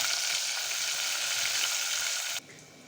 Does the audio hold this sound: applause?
no